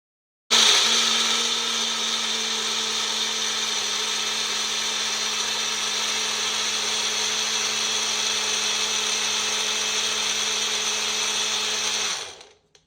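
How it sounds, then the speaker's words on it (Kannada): A mixer grinder blends blueberries, milk and honey into a milkshake. Its loud, steady high-pitched whirring starts abruptly, holds unchanged for about twelve seconds, then winds down and stops. "ಗ್ರೈಂಡರ್ ಮಾಡ್ಕೊಬೇಕು."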